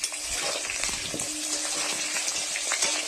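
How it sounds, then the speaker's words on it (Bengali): Potatoes frying in oil in a wok, a steady dense sizzle that continues throughout with faint stirring clicks, close and with no talk. "এরপর ভাজবো আলুগুলো কড়াইয়ে দিয়ে দিয়েছি। এবার আমি এগুলোকে ভেজে নিচ্ছি ভালো করে"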